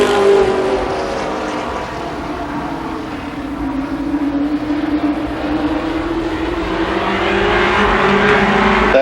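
Race cars in a limited sportsman heat race at Columbus Motor Speedway in 1993 roar past, engine tones rising and sliding in pitch as they sweep by, loud and continuous with the crowd of cars, and no voices heard.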